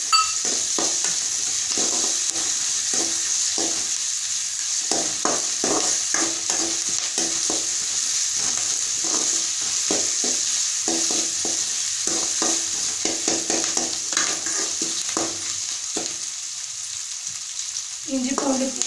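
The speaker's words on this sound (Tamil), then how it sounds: "பாதி வெந்ததும் எடுத்து வச்சிருக்க இஞ்சி பூண்டு பேஸ்ட் போட்டுக்கோங்க." Ginger garlic paste fries in a pan for rava kichadi while a spoon scrapes and stirs in quick repeated strokes over a continuous bright sizzle, with a brief pause near the end.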